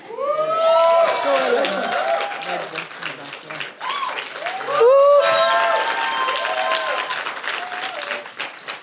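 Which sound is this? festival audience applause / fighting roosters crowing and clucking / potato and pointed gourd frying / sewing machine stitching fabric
festival audience applause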